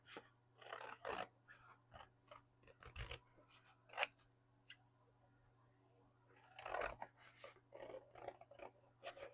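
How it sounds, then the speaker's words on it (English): Scissors cut out a paper butterfly in a series of quiet, close snips, clustered in short bursts with pauses between, and no talking. "I'm going to cut it and the butterfly out."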